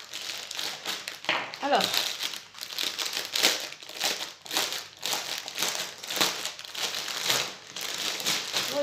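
A diamond painting kit is unwrapped from crinkly plastic packaging, making close, repeated crackling and crumpling bursts throughout, with someone talking briefly over it.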